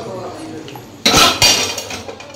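Mutton curry being stirred in a metal cooking pot, two sharp clanks of a spoon against the pot over a soft background hiss, with speech around it.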